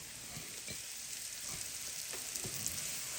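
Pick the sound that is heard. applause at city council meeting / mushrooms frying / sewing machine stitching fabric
mushrooms frying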